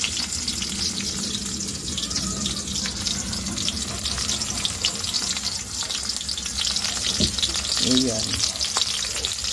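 Onion frying and being stirred for eggplant adobo: a loud, continuous crackling sizzle close by, with a few spatula scrapes against the pan and a brief spoken word near the end.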